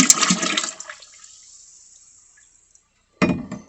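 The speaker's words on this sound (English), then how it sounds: "our starter is ready with the wild yeast, so we're going to dump it in" Wild yeast starter splashes as it is poured into a mountain brandy moonshine mash, a loud, close watery gush that fades out, followed by a brief burst of liquid and clatter.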